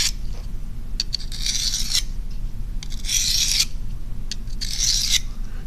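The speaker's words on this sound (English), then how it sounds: "you can actually sharpen your knife" A knife blade is drawn across the diamond-dust sharpener of a Leatherman Wave multi-tool in a few close, rasping strokes, each a gritty scrape followed by a short pause, with no talking.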